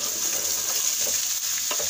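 Green chilies hit a hot pan and sizzle steadily at close range, with a few soft stirring taps under the hiss.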